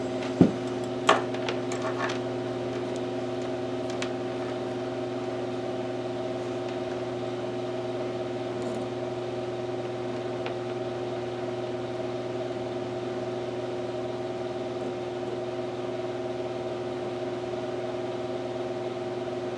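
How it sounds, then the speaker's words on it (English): A DIY electric motor fed about 65 volts runs with a steady, even hum that holds at one level throughout, after a couple of brief knocks at the start. "Motor's on."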